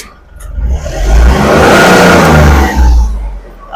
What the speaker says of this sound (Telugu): అలాగే ఇంజన్ కూడా ఒకసారి స్టార్ట్ చేసి చూపిస్తాను చూడండి.